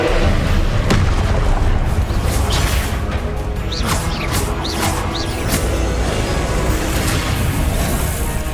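Confringo fire spell explosions in the Hogwarts Legacy video game, a dense stretch of booming blasts and whooshing impacts over continuous loud battle noise, with no clear talk.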